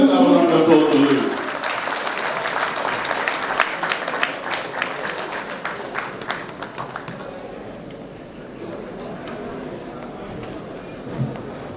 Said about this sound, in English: Let's have a round of applause for Louis.